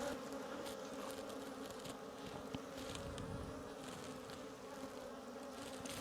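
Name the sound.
native honeybees buzzing in a weak colony hive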